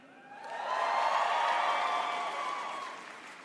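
A crowd of graduates at a university commencement ceremony bursts into cheering and applause, a broad roar that swells within a second, holds steady, then slowly fades.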